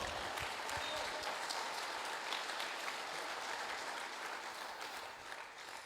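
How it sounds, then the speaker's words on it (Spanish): A church congregation applauds during a Spanish-language sermon, a dense, steady wash of clapping that holds at an even level for about six seconds. "Dale un aplauso a Dios"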